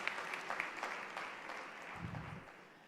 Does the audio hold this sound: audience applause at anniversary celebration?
yes